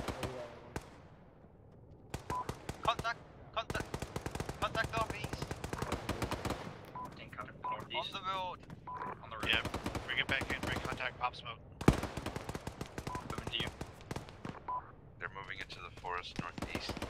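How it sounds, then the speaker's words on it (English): Dense gunfire bursts in the Arma military simulation game, repeated rapid automatic volleys across the whole stretch with short gaps, mixed with voices over radio-style comms. "We're taking sporadic fire."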